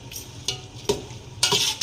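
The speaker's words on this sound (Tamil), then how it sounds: "இப்போ நல்லா வதக்கிக்கலாம்" Onions sauté in a pan, the steady sizzle broken by three or four brisk scrapes and stirs of a spoon, heard up close with no voices.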